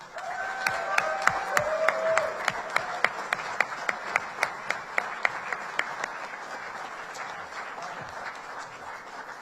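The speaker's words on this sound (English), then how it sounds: "please join us in a big round of applause for all of the Edwards Air Force Base's newest technical sergeants" An audience at an Air Force base promotion ceremony applauds its newest technical sergeants with steady, full applause and distinct individual claps standing out over the crowd, tapering off near the end.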